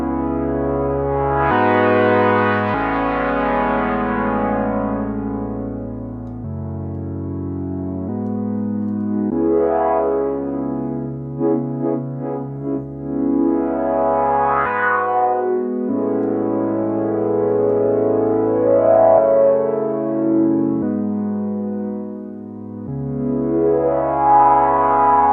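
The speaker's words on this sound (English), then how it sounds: "I love the sound of the drive on these plugins." A Moog MoogerFooger effect plugin adds drive to a synth line, giving loud, gritty, sustained tones that step through changing pitches and swell with warm distortion, heard alone and steady.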